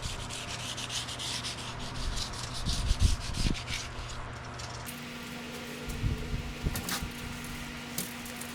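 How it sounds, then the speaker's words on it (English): Steady rhythmic rasping of 220-grit sandpaper rubbed against a cast metal motorcycle wheel, close up, with a faint motor hum in the background and no voices. "That is only a 220 grit sanding."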